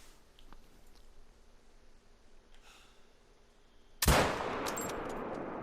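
A single sharp rifle shot fired at a buck in a hunting video game on the Revontuli coast, a loud sudden crack near the end after quiet ambience, trailing into a decaying echo.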